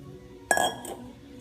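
Salted flour tipped into a bowl of creamed butter and sugar for a pear, amaretti and chocolate cake, giving one brief clink of utensil against a bowl and a soft rustle, with no talk.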